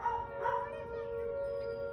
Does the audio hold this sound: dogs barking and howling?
yes